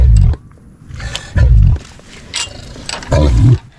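A captive cassowary gives deep booming calls, three heavy low pulses spaced about a second and a half apart, loud and close, with faint background noise between them.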